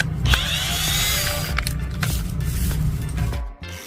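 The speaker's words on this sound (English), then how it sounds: "First step, remove all the bolts on the iron cage of the fan." A power tool working the bolts on an iron fan cage gives a sustained close whir with rattling metallic contact, ending abruptly near the end.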